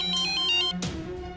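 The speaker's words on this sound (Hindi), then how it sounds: "इस फोन से ना हम परेशान हो गए हैं। जब देखो बजता रहता है, चाहे दिन हो रात।" A mobile phone ringtone plays loud and close, a bright repeating electronic melody that cuts off partway and restarts, with no voices.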